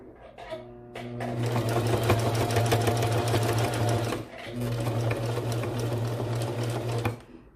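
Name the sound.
sewing machine stitching fabric for a baby bandana bib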